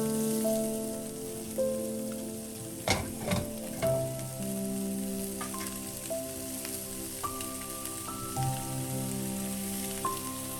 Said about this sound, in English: mix the aromatics with the pork ribs. Then fry them for about 1 minute or so